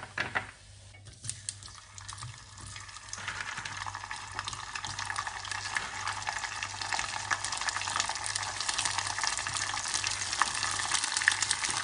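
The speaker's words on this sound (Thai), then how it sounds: "ทอดกรอบประมาณนี้ค่ะ" Pig ears deep-fry in hot oil until crispy, a dense crackling sizzle that builds and grows busier over time, with faint clinks of a utensil, heard close with no talking.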